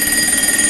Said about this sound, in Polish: To jest ten dzwonek, który jest jeden dzwonek na dwa mieszkania.